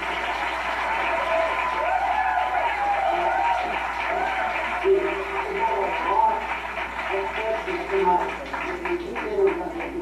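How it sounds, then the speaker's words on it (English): An audience at a congressional candidates' debate applauds steadily, the clapping blending with crowd murmur and voices talking over it, with a few sharper bursts toward the end. "Keep applauding"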